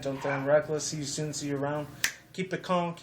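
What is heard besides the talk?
No distinct noise like a dog, phone or traffic.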